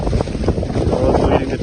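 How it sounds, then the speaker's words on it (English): Strong wind buffets the microphone with a continuous low roar and rumble on a rainy hike in Mount Cook National Park, New Zealand. "The wind dies down, of course."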